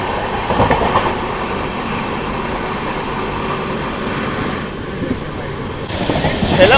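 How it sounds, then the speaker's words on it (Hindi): Indian Railways train noise as the Jhelum Express overtakes the Shatabdi Express near Kurukshetra Junction: a steady loud rumble of rolling coaches with a broadband roar, swelling slightly toward the end. "और ये लीजिए भाई झेलम एक्सप्रेस का ओवरटेक फ्लैट 130 को।"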